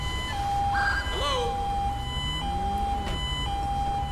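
A police siren in the video game GTA 5 wails and yelps in a rising and falling electronic tone, loud and continuous, with game sound effects mixed in.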